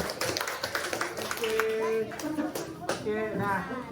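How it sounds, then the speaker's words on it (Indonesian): Children in a classroom clap for a group of classmates, a scattered, light patter of hand claps and taps mixed with lively children's voices talking over it. "Tepuk tangan untuk kelompok 3."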